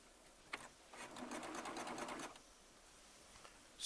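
A Baby Lock Triumph serger stitches a fabric strip in one steady run of a little over a second, starting after a soft click and ending with a few faint clicks, moderately close and heard alone.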